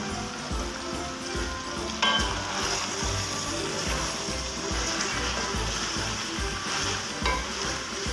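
Cubed tomatoes frying with onions in a pot for balti gosht, a continuous close sizzle with a spoon stirring and scraping in a rough rhythm, one sharper clink partway through, no talking.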